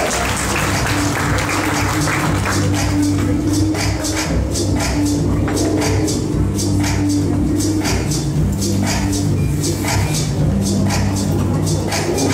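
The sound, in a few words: audience applause for a model at a fashion contest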